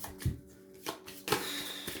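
Tarot cards being shuffled by hand, a few short, soft riffling bursts separated by brief pauses, close to the listener.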